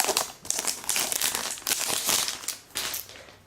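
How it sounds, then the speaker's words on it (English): Protective plastic film is peeled off a new 11.6-inch MacBook Air in a steady run of crinkly, crackling rustles, close and fairly loud, with no talk. "Peel off the plastic."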